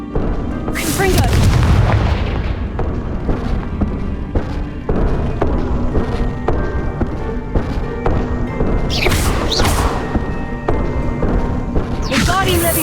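Confringo blasting spell explosions in the Hogwarts Legacy video game, heavy booming blasts with crackling bursts, a few sharp impacts spread across the span over a busy game soundscape.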